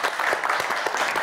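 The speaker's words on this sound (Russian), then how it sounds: "Друзья, ваши аплодисменты." Studio audience applause at an evening television show, a short, even patter of many clapping hands, moderately loud.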